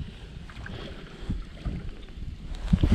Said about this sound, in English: Now the wind today is howling.